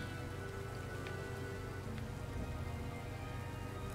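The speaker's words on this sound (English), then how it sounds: "Oh, and it just started to rain." Steady rain falling in the video game Pokemon Scarlet, a dense even patter with scattered drop ticks, moderately loud and continuous throughout with no talk.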